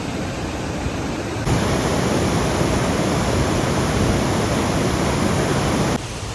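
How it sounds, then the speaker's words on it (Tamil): Waterfall at Viripara near Munnar, Kerala, a steady, loud broadband roar of falling water that swells louder after the first second and a half and holds constant, with no voices. "இந்த வாட்டர் ஃபால்ஸ் மட்டும் பாருங்களேன். வாட்டர் ஃபால்ஸ் அப்படியே பாருங்கள்."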